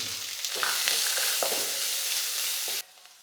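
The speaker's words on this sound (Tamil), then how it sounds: "சின்னதாக ஒரு மூணு வெங்காயம் நல்லா பொடி பொடியாக கட் பண்ணி வச்சுருக்கேன் அந்த வெங்காயத்தையும் சேர்த்துக்கலாம்" Finely chopped onions tipped into a pan of roasting lentils, garlic and chillies, a steady broad sizzle with a few soft scrapes and knocks, loud and close, cutting off abruptly near the end.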